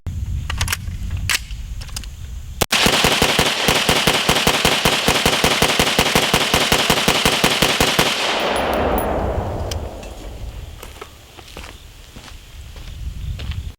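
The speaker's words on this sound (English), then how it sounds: "run that magazine as fast as possible to see if I can identify or see if I can induce a malfunction" A 10.5-inch AR-style upper fires a full 30-round magazine as fast as possible, a loud, close, rapid string of sharp shots that ends abruptly and fades into ringing ambience, with a few isolated cracks before.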